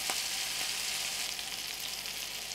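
Sausage patties frying in a pan, a steady close sizzle and crackle with small pops, continuous and fairly quiet, with no one talking.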